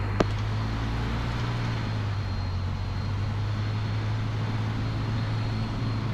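Light training aircraft engine running at steady power for takeoff during a private pilot lesson, a constant low drone with a brief click near the start and no speech.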